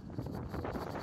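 Wind gusts buffet the microphone on an outback road while cycle touring in Australia, a low rumbling rush that stays steady and fairly loud for the brief moment.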